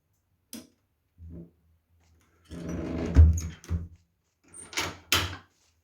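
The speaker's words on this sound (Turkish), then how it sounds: "Kapıyı kilitledim bir şey yok." A few separate clunks and clicks of a door shutting and a latch locking in PUBG, close by, spaced out with short pauses between them.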